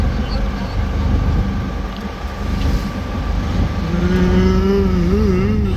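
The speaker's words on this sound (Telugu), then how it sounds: "ఆటోలో అయితే తొందరగా వెళ్ళిపోతాం, అందుకోసమే ఆటోలోనే వెళ్తున్నాం అనమాట." An auto rickshaw's engine hums steadily on a ride through Bangalore traffic, loud and close, with road noise throughout and a brief rising whine toward the end.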